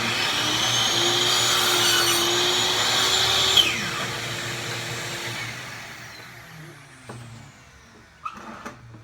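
A vacuum cleaner whirs loudly nearby in a woodshop, then its motor winds down and fades, leaving a few knocks and clatters.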